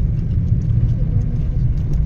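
A truck drives along a ghat mountain road, giving a steady close engine rumble and road noise with no voices.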